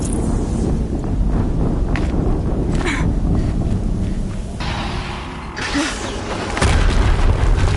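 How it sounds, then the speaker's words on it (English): Explosions in the video game Horizon Zero Dawn boom heavily over a dense, roaring low rumble, with a couple of sharper blasts and bursts standing out near the middle and end. "Another explosion."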